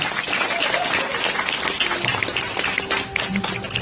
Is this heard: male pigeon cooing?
no